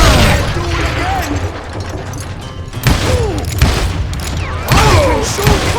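Gunfire in the Western shooter game Call of Juarez Gunslinger, loud repeated shots and ricochet-like whines in bursts, with a voice talking over them.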